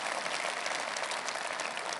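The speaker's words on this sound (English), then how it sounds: "I never thought I'd get such applause for Jeremy Corbyn at a Tory party conference." Dense, steady applause from a large crowd at the Conservative Party Conference, moderately loud and continuous throughout.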